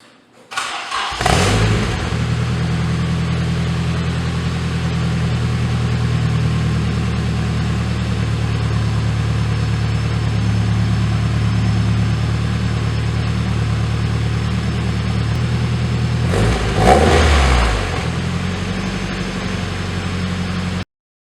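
A car fitted with a Jones exhaust muffler starts with a crank, settles into a steady rumbling idle, then revs sharply once near the end before shutting off.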